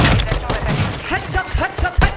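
Rapid gunshots in Warzone 2 during a headshot kill, a string of sharp close bangs across the clip with game noise and bits of excited voice between them.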